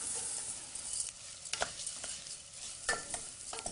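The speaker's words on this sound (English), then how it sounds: "just tip in, this is 225 grams of rice basmati" Basmati rice, 225 grams, is tipped into a hot pan with fried onions, giving a steady close sizzle broken by a few sharp rattling bursts as the grains land and are stirred.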